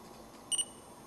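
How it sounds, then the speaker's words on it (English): Autofocus confirmation beep from a Nikon D5000 camera as the shutter release is half pressed: two quick, fairly quiet electronic tones, close by over a faint background hiss. "To autofocus, you actually half press the shutter release"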